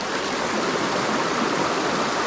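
Waterfalls and a stream at Real Nayarit produce a constant, dense hiss of rushing water, loud and close, with no voices over it.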